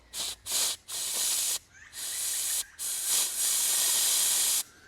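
Compressed air from a workshop compressor blasts through a filter from an old railway section car in loud hissing bursts: several short spurts, then longer sustained blows separated by brief pauses.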